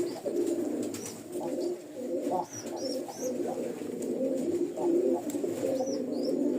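Pigeons coo repeatedly while feeding their chicks, soft rolling calls close by with a few high chirps and light rustling over a steady background.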